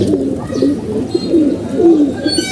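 Pigeons coo repeatedly in soft, low, rolling calls that overlap close by, with no talking.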